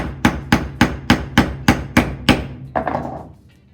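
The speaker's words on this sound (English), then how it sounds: "Hammer that down and then put him back." Hammer blows driving a wire character down, nine sharp, evenly spaced strikes in a steady rhythm, close and loud, ending with a softer final tap and a short ring-out, no voices.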